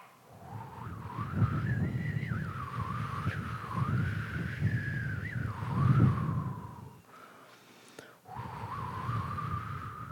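A group of people exhale slowly through their mouths in imitation of wind blowing through trees, producing a long airy whistle-like tone that wavers in pitch, pauses briefly, then resumes.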